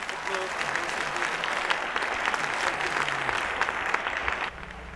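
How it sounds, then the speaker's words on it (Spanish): Sustained audience applause at an ideas conference, dense and even clapping from a sizable crowd with faint voices beneath, easing slightly at the end. "Por favor, Sergio, un aplauso para los que lo conocen."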